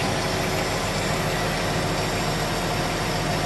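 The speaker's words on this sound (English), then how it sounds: "Nice smooth running inline six." A 1959 Chevrolet Impala four-door sedan's inline six idles steadily with a smooth, even low rumble, close and continuous, with no voices.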